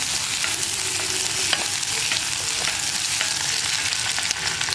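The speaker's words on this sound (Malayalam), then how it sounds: "ഇപ്പോൾ നമുക്കിതിലേക്ക് വറ്റൽമുളക് ചേർക്കാം. 4-5 വറ്റൽമുളക് ചേർക്കാം." Four or five dried red chillies dropped into hot oil for a Kerala erissery of raw plantain and pumpkin, crackling and sizzling in a dense, continuous hiss close up with no talking.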